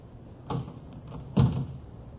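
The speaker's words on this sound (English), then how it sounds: "Well, try the door." A door opens in an old radio drama: two distinct knocks and rattles of the latch and wooden door about a second apart, fairly close, with faint room noise in between.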